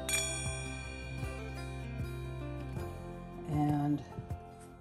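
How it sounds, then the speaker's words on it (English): A gong is struck, and its sustained, shimmering metallic tone rings out for several seconds before it slowly decays, followed by a brighter, louder swell and faint tinkling near the end. "I'll ring my gong"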